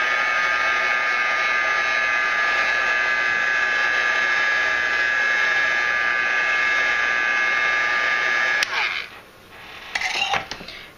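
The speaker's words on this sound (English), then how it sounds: "I'm going to heat set this for just a second because I want it nice and dry on the inside." A heat tool blows with a loud, steady whirring roar while drying a glued paper flower, then switches off near the end, leaving brief handling sounds.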